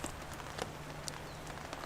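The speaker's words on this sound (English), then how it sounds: "Consistent rain." Steady rain pattering on a One Tigress camping tarp in a forest, a dense, even hiss with scattered louder drops striking the fabric, continuous and fairly faint throughout.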